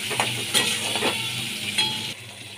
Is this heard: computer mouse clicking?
no